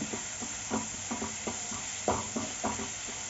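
Chopped onion and garlic with a little salt sautéing in a pan, a soft steady sizzle broken by regular scraping strokes of a spatula, close and alone.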